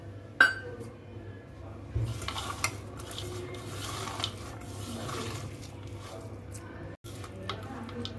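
A sharp clink opens, followed by soft, continuous stirring and scraping of chopped onion pakoda batter in a bowl, with occasional light taps of utensil against the side.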